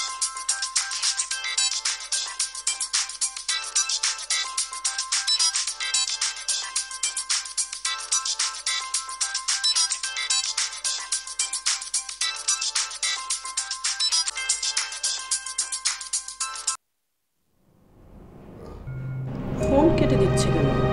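A mobile phone ringtone plays in a steady repeating melody for about seventeen seconds, then cuts off abruptly, followed by a brief rising voice.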